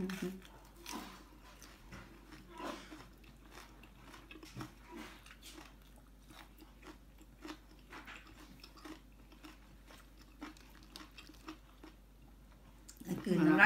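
Close, quiet chewing and soft crunching of homemade mushroom soup with vegetables, repeated bites and mouth sounds in an irregular rhythm, ending with a louder burst of noise.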